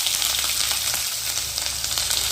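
Panch phoron, a bay leaf and a dried red chilli sizzle steadily in hot oil, a loud, continuous close-up crackle with no talking.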